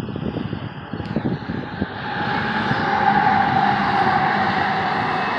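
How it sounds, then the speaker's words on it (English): A train rumbles by in the background at an outdoor wedding, a steady low roar that swells and holds from about two seconds on, with a faint high tone riding over it and no talk. "Train in the background."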